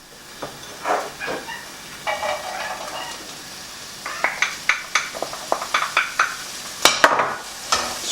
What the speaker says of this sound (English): going to saute them off